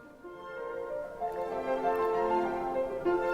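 Orchestral passage from a Saint-Saëns concerto, sustained strings and winds holding dense harmonic chords that swell gradually louder, steady and continuous with no talking.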